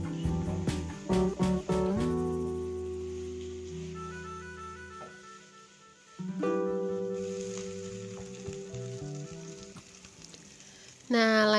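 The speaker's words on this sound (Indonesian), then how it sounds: "terus kita masukin bakso sama sosisnya, terus ditumis lagi sampai mateng" Meatballs and sausage stir-fried in a pan for fried rice, a steady sizzle with the scrape and clatter of a spatula stirring, close and moderately loud, with no talking.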